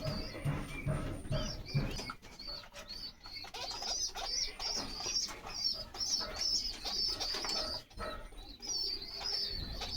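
Pigeons coo softly in a loft where the birds sit on eggs with chicks, with low murmuring calls and a steady high chirping running throughout, plus occasional wing flutters and shuffling nearby.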